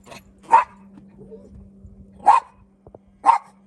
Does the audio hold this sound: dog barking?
yes